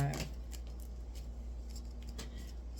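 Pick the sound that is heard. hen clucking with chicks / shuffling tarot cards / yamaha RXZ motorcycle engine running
shuffling tarot cards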